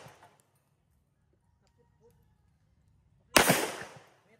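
A single sharp gunshot from a Bersa Thunder 40 Pro pistol at a firing range cracks loudly and close after a long quiet stretch, then decays briefly.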